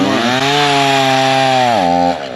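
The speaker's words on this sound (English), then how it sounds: "Cutting up some wood right here for the fire." Chainsaw cutting up firewood outdoors on a chilly day, a loud, steady close-up engine whine that holds at high revs and then dips in pitch near the end as the cut finishes.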